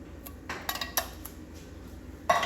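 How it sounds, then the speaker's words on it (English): A spoon stirs chicken and dumplings, thickened with canned soup, in a cooking pot, giving a handful of light clinks and knocks against the metal over a quiet background. "So let's give that a good stir."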